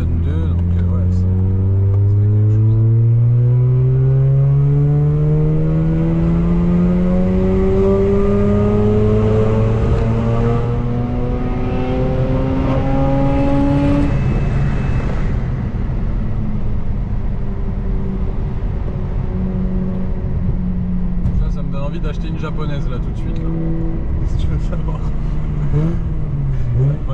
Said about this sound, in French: Le son de la voiture, il est fou.